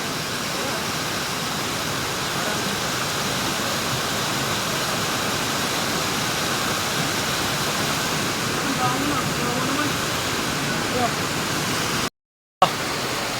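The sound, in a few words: flowing river water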